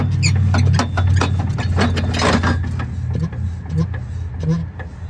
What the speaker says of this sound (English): cranking the engine